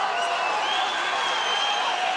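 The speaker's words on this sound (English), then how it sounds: "The crowd going absolutely wild." A roaring, cheering crowd fills the arena during a Cage Warriors MMA fight, a dense continuous wash of noise from many people, loud and sustained.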